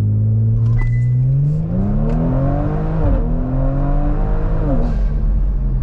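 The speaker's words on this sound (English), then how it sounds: "Kind of backfired a little bit." A tuned Kia Stinger GT running a JB4 map 3 at 21 psi drones loudly from inside the cabin as revs rise and fall through shifts, with a few brief pops suggesting small backfires.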